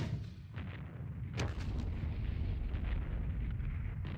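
Artillery fire booms in a Squad Battles war game, one sharp blast standing out among lower rumbles and scattered distant bursts over a steady dull roar, with no talking.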